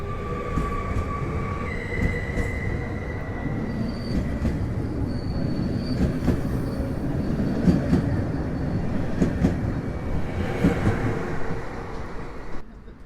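A PKP Intercity passenger train pulls away in Warsaw, with the loud rumble of wagons rolling past close by, rhythmic wheel clatter and high squealing tones building steadily before easing at the end.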